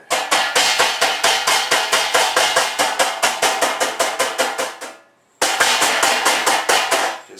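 Rapid, steady hammer blows ringing out one after another, loud and close, pausing briefly before the pounding resumes.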